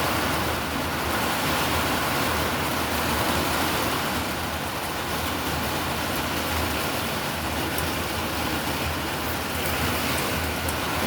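Heavy rain pours steadily through a severe thunderstorm in a neighborhood at night, a dense, constant roar filling the whole stretch with no talk and no distinct thunderclaps.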